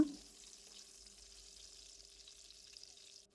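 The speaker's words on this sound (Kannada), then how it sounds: "ಹೀರೆಕಾಯಿನ ಒಂದೆರಡು ನಿಮಿಷ ಎಣ್ಣೆಯಲ್ಲಿ ಚೆನ್ನಾಗಿ ಫ್ರೈ ಮಾಡ್ಕೊಳ್ಬೇಕು" Pieces of ridge gourd fry in hot oil in a pan, giving a faint, steady sizzle with no talk.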